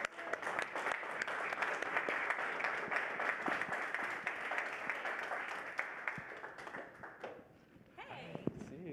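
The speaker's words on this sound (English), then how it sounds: "Let's give her a round of applause" Audience applause as a guest, Reese, is welcomed on stage at an AT&T DIRECTV NOW launch event; steady, dense clapping fills most of the stretch, then thins and fades near the end.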